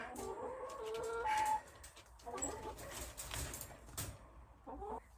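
A broody hen shut in a cage clucks in repeated low, throaty bursts, close by and fairly loud, with brief pauses between the runs of clucks.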